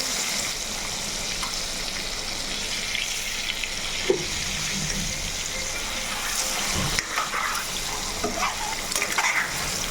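Eggs fried in boiling oil give a steady, dense crackling sizzle throughout, close and even, with faint occasional clinks and no voices.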